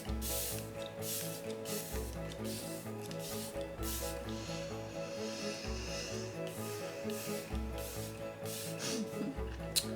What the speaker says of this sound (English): We're gonna shake it up a little bit and we're just gonna spray it on our face.